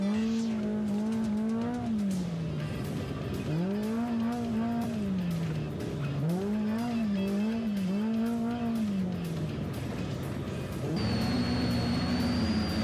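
An off-road rally race car in the NORRA Mexican 1000 drives hard, its engine rising and falling in repeated revving sweeps through gear changes, loud and close as heard from inside, with a steady tone near the end.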